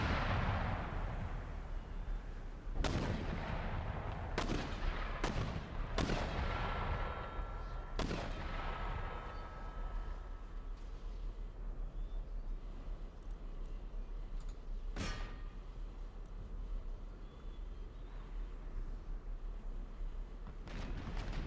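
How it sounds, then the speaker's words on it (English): Artillery fire in a war strategy video game: several sharp booming blasts at irregular intervals over a steady low rumble, with one more distant shot later and quieter stretches between. "Artillery's behaving a little bit weird."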